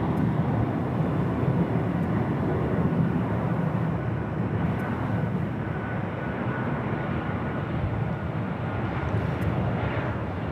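A Delta Boeing 737-800 airliner arriving at LAX gives a steady, loud, broadband engine roar that holds throughout without a break.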